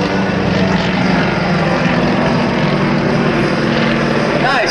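Yak aerobatic propeller aircraft fly a tight four-ship formation at the 2010 Greenwood Lake Airshow, one rolling around the others, producing a loud continuous engine drone that fills the clip, with an announcer speaking over it.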